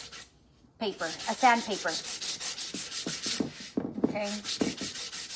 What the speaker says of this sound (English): I'm just gonna go over it with a sandpaper.